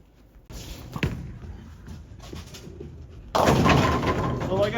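Roto Grip Optimum Idol Pearl bowling ball rolling down the lane: a thump at release, then a steady rolling rumble that swells into a loud, broadband pin crash near the end.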